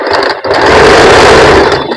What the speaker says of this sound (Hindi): एक एक सिलाई लगा देनी है।